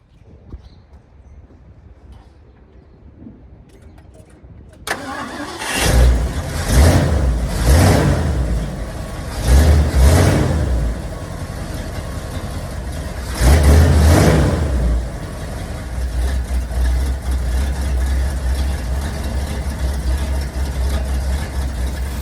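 Car engine starts after quiet background, then idles loudly and close, with several strong revving surges rising and falling over a steady idle, after installation of an oil pressure gauge.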